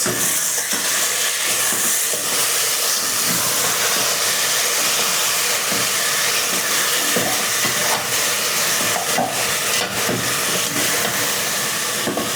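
Frozen bell pepper and tomato sizzling loudly in a hot pan as they are stirred, a constant broad hiss with faint scraping, no talking.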